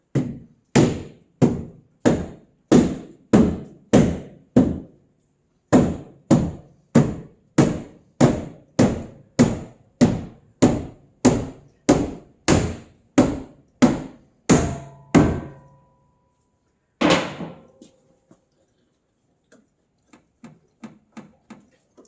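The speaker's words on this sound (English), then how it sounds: "I'm going to take my rubber hammer, put it in there." A rubber mallet thumps on the metal fender of a 2006 Mazdaspeed6 in a long, even series of dull blows, about two per second, pausing once, then a few scattered lighter knocks.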